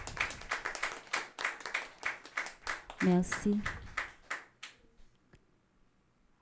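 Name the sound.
congregation applauding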